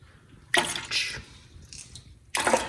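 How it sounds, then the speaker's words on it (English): Coolant draining from a Subaru STI engine in a garage, heard as close, wet splashing and trickling in short bursts, with a loud gush at the start and another near the end. "You can see that's just going and draining now."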